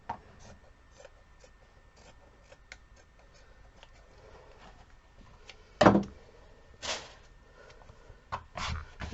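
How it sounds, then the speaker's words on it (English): Scissors cutting along the other edge of material for a Christmas cone tree craft, heard as quiet scraping and rasping with a few louder snips and crunches near the end, close by with no talking. "And then I'm just cutting along the other edge."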